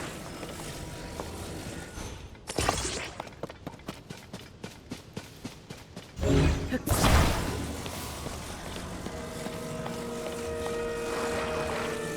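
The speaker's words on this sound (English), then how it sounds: "we are going to be making a plane with rockets" A rocket-powered plane built in Zelda: Tears of the Kingdom roars into motion, a burst of rushing thrust after a run of rapid rhythmic clattering, then a steady drone with game music underneath.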